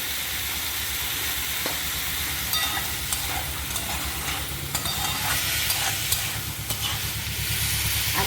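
Yardlong beans with dried chili powder sizzle steadily in a pan, with scraping and clinking as they are stirred, close and continuous, no voices.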